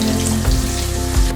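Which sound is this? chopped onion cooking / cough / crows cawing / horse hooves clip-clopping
chopped onion cooking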